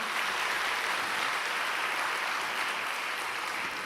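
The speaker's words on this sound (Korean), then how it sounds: "우리 하나님께 영광의 박수 올려드리겠습니다" Steady applause from a large crowd at a Christian teachers' conference lecture, a dense continuous patter of clapping held at an even level throughout without voices.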